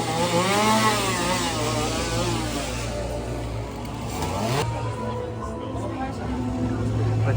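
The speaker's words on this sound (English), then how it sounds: "there's a chainsaw." A chainsaw engine drones and revs loudly and steadily throughout, with screams or voices mixed over the mechanical roar, inside a haunted house attraction at Halloween Horror Nights.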